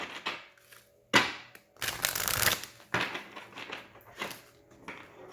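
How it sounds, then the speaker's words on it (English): Tarot cards are shuffled repeatedly up close, crisp riffling bursts with brief pauses between them, no voices. "Let me get a good shuffle."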